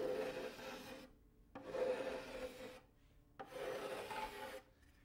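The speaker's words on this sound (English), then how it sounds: "we use a scraper and take a few passes along this leading edge to dial in the fit." Cabinet scraper drawn along the leading edge of a wooden door on a maple and walnut CD cabinet, giving three steady rasping strokes separated by short pauses, close and alone.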